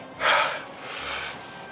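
Heavy, breathy gasps from a person reacting to the burn of eating hot chili peppers such as habanero: one sharp loud gasp, then a longer, softer exhale, close to the mic with no talk.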